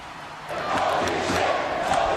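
A crowd cheers at a toy wrestling figure Royal Rumble show, a loud, continuous roar that swells after a brief quieter moment and holds steady.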